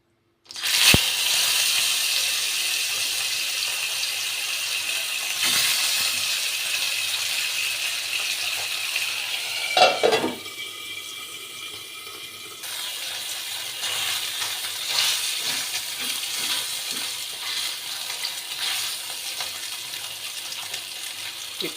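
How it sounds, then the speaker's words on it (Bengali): Fish frying in a pan for a Bengali tamarind fish curry gives off a steady, close sizzling hiss, broken by a couple of sharp clinks near the start and midway, with no voices. "এই জন্য প্রথমে মাছগুলো আগে ভেজে নেব।"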